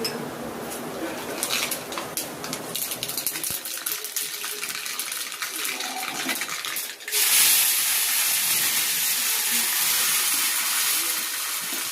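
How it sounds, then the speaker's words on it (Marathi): A tadka for appe chutney is poured into hot oil, starting as a low crackle and bursting partway through into a loud, steady, bright sizzle that carries on to the end. Nobody speaks. "आता चटणीला तडका दिला"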